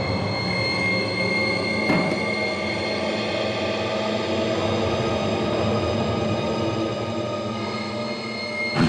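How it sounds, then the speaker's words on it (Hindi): A train rumbles steadily past with a continuous metallic roar and squealing wheel tones, loud and close, with a sharp clank partway through. "ट्रेन के जाने की आवाज, ट्रेन के हॉर्न की आवाज"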